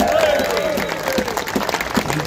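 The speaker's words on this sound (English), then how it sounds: "Give him a warm round of applause." Sustained applause and clapping from a crowd at an outdoor protest in Liverpool, a dense steady patter with cheering voices mixed in, fairly loud throughout.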